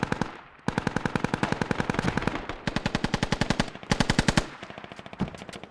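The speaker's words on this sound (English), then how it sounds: "Whoa, far range shots." Sustained automatic gunfire in the tactical shooter game Squad, heard from long range on the Railroad map: dense rapid bursts of shots, loud and continuous with brief gaps, no talk over them.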